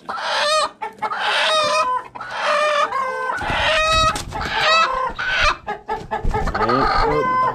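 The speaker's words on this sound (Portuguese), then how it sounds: "Galinha." Hens squabbling over nesting space on a small farm cluck and squawk loudly up close, a busy run of overlapping calls with brief pauses.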